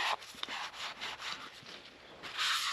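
A cloth rubs around the inside of a carburetor bowl from a 2001 EZGO TXT gas golf cart, a series of close, dry, scratchy wiping strokes in uneven rhythm.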